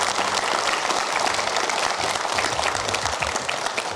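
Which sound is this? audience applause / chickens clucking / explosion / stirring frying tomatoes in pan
audience applause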